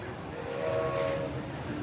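A Walt Disney World monorail arrives near Epcot, a steady rolling rumble with a faint tonal whine rising briefly in the middle, heard close and continuous.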